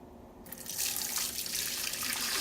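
Homemade chicken stock is poured slowly through a strainer into a pitcher in a kitchen sink, a steady close splashing rush that starts abruptly and keeps on without talk.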